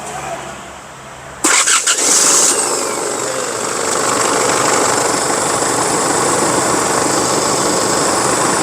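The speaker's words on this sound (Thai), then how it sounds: "เดี๋ยวสตาร์ทเครื่องยนต์นะครับ" An Isuzu D-Max 2.5 common-rail diesel pickup engine cranks and catches, then settles into a steady, loud rumbling idle that carries on for several seconds.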